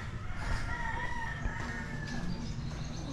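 Rooster crowing at a rooster training ground in Tanjay City, Philippines, a steady outdoor crow over busy background din, moderately close.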